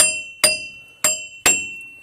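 A steel hammer strikes a Chevrolet Trailblazer's front wheel bearing four times at an uneven pace, each hit a bright metallic ring that hangs briefly, close and loud with no talking.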